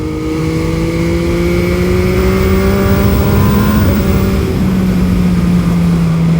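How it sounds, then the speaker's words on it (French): MV Agusta Brutale 800 three-cylinder motorcycle engine pulling hard through the revs, a loud, close rising howl that climbs steadily, then eases and drops in pitch near the end, with no talking. "Vraiment ce 3 cylindres qui est plein partout et qui est rageur dans les tours."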